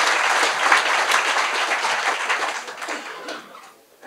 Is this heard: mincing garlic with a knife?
no